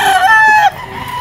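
A gamefowl rooster, a blue-legged kanaway stag at a pet market, gives a loud, close crow that rises and then holds a steady tone before cutting off.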